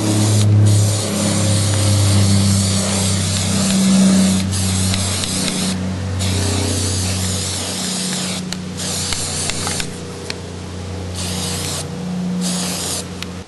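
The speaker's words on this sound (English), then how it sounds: "I'm going to spray paint it now." Bursts of hissing spray paint blast close by onto a taped-down costume collar, several sustained sprays separated by short pauses, over a steady low mechanical hum.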